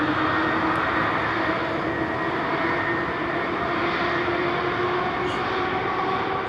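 A Boeing 787-10 Dreamliner rolls for takeoff at Heathrow, its engines a steady, broad roar heard from a distance that holds evenly throughout with no talk over it.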